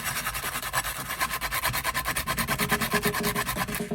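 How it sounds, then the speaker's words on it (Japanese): A rusty kitchen knife is hand-sanded with coarse 40-grit abrasive paper, making fast rhythmic rasping back-and-forth strokes that are close, steady and continuous, with no talk. "ここは一番粗い40番を丸めて 削っていきます"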